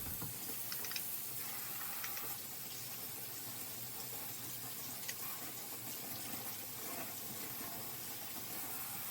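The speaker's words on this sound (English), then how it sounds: "you wanna wash your hands." Water runs steadily from a kitchen tap for hand washing before cooking, a continuous broadband hiss with faint clinks, moderately quiet and uninterrupted throughout with no talking.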